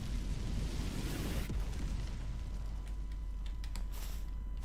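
A deep, rumbling blast from the video game Palworld, loud and sustained as a dense roar, then thinning out into a noisy tail with a few crackling pops.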